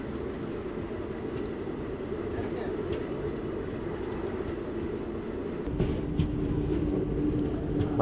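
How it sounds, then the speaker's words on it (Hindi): The Howrah-Prayagraj Vibhuti Express rolls into Jamtara at night, a steady low rumble of the moving train that grows slightly louder and rougher near the end, with no clear voices. "अपनी ट्रेन पहुंच रही है जामताड़ा"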